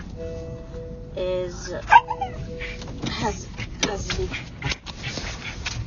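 Excited old dog riding in a stroller gives whimpers and short yips, with a whiny tonal cry early on, then scattered scuffles and brief barks at close range.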